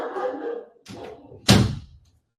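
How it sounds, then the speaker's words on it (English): An indoor door is pushed shut with one sharp, close slam that rings briefly, following a moment of someone speaking nearby. "Hang on, I've got to shut my door."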